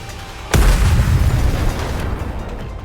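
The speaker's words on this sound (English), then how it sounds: "The missiles have no homing ability. It's just firing wildly!" A single loud missile explosion in the video game Nikke, a sharp booming burst that rolls into a long, rumbling decay lasting a couple of seconds.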